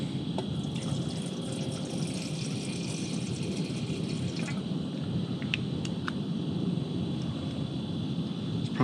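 Water pours steadily into a cooking pot at a backpacking campsite, a continuous close trickle and splash running throughout with no talking.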